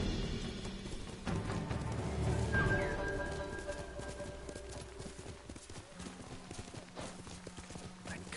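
Horse hooves clip-clopping steadily at close range while riding in Ghost of Tsushima, a continuous rhythmic trot over the game's ambient sound with a few faint bird calls in the background.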